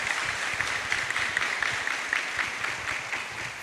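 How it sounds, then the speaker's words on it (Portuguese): A church congregation at a farewell Mass for a departing parish priest applauds him, a continuous even wash of many hands clapping throughout, moderately loud and reverberant, with no voices standing out. "pedir uma salva de palmas a esse grande homem"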